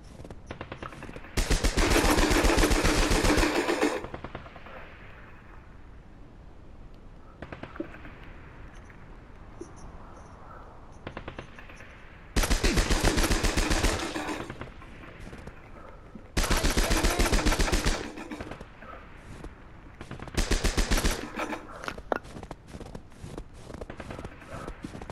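Bursts of automatic gunfire from a video game in United Assault, several sustained volleys of rapid shots separated by quieter gaps, loud and close with faint background game ambience.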